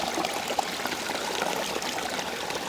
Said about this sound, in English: Just a tiny little stream.